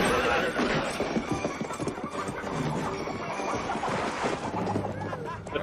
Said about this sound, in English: Look, these may be the last horses in movies.